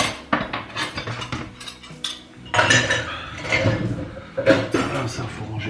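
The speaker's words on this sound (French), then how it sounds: "comme ça je vais lancer la vaisselle, comme ça moi il va tourner. Il y a déjà pas mal de choses dedans là." Dishes and cutlery clink and clatter as a dishwasher is loaded in a family kitchen, a close, irregular run of ceramic knocks and metallic chinks with short gaps between handfuls.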